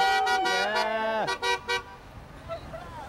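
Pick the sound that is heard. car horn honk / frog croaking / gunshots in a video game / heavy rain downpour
car horn honk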